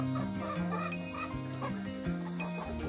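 A hen that has just been broken of broodiness, clucking and calling, with overlapping tonal fowl calls near the microphone against a steady background hum.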